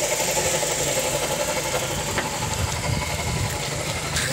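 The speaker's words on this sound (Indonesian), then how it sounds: "Ini cuman ada agak beda bunyinya satu. Ini kelahar dinamo cas." A car engine idles up close at a steady, even hum, with a faint whine and rattle from a worn alternator bearing riding over the rough low rumble.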